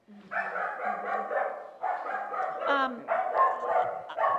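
A shelter dog barks and yips in short bursts, fairly close, with brief pauses between volleys and a high whine near the middle.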